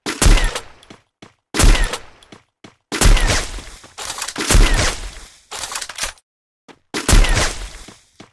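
AWM sniper rifle shots in a mobile shooter game, fired singly in loud sharp cracks, each followed by a bolt-action clack and short tail, about five heavy shots with smaller clicks between.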